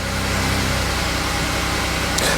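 A warmed-up car engine idles slightly high, a steady, loud, close mechanical drone with an even low rumble and no voices.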